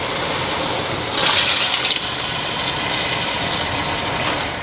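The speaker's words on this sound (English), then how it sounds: "I'm going to put 2 bowls of water in the pot" Water pours steadily into a soup pot with a continuous rushing sound, swelling briefly louder in the middle, over a low background hum.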